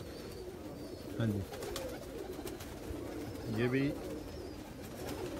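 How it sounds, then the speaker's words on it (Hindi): An aged pet pigeon gives two low, throaty coos a couple of seconds apart, close by amid steady background hum, with someone talking briefly. "ये कबूतर है मेरे कांटों वाले"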